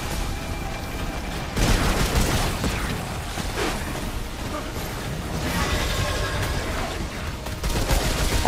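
Gunfire in the video game Remnant 2 during a veteran-difficulty boss fight, with dense, loud bursts of shots and booming impacts layered over a constant battle din, coming in waves that swell and ease.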